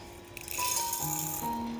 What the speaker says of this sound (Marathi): आता वाटीतले हे सर्व पदार्थ मिक्सरला बारीक करून घेऊया